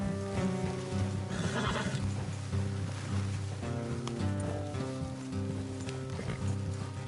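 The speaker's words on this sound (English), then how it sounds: "Let's leave the horses here and go the rest on foot." Horses whinny and neigh in Red Dead Redemption, a prominent harmonic call with snorting and shuffling hooves around it, moderately close and continuous over a low ambient bed.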